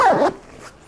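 A backpack side zipper pulled quickly, a single short rasping zip close up, followed by a faint quieter rustle.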